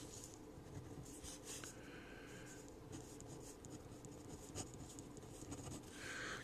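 Hand-writing an algebra equation on paper, a soft steady scratching of pen strokes with brief pauses, close and quiet, with no talk over it.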